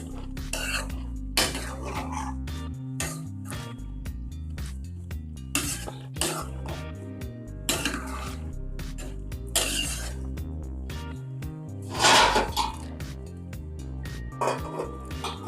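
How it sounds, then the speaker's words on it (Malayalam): A spoon scrapes and knocks around a pot of avial, the Kerala vegetable curry, in irregular clinks and scrapes with short pauses, close and clear, including one louder clatter near the end. "വേവുന്ന വരെ നമുക്കിങ്ങനെ ഒന്ന് ഇളക്കി കൊടുക്കണം."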